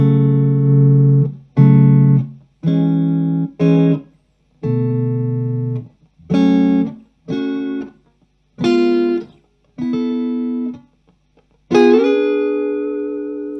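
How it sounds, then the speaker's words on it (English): A PRS DGT electric guitar plays a series of separate chords and notes with short pauses between, slightly overdriven with a touch of reverb, loud and alone. "this is all just to show you what this guitar sounds like"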